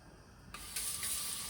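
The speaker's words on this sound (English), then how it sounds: "Obviously, I've never rinsed my rice." Rice is rinsed under a running kitchen tap, the water switching on abruptly and then gushing steadily and loudly to the end with no voices over it.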